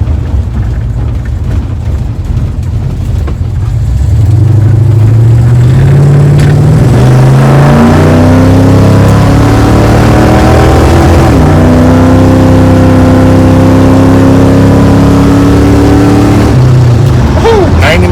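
A Dodge Dart Swinger fitted with new mufflers revs and accelerates from inside the car, the engine tone climbing through rising pitch sweeps and gear changes, loud and continuous across the whole stretch.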